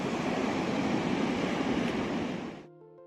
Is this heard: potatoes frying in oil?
no